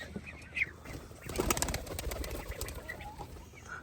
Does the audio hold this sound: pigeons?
yes